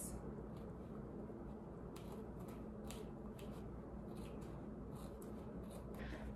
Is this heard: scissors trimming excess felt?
yes